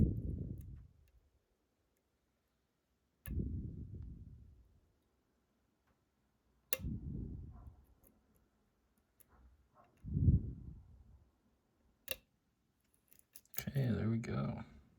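Lock pins click faintly while a Hippie No.3 lock is picked, a few sharp isolated ticks spread among quiet low thumps, with soft handling noise near the end.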